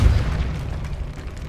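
A short, dull Depulso force-spell blast in Hogwarts Legacy, heard inside a decayed old tomb: a low booming thump at the start that rumbles and fades over a second or so, moderately loud and alone.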